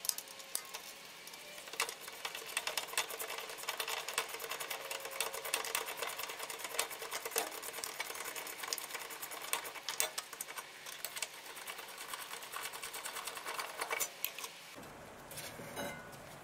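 A socket wrench turns a bolt on the rear brake of a 2007 Mercedes C-Class W204, making a long run of rapid, fairly faint ticking clicks that stops near the end.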